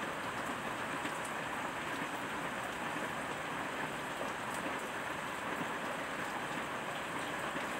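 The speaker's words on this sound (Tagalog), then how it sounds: "tuloy-tuloy ang ulan" Steady rain pours down continuously, a dense hiss of falling water with no voices.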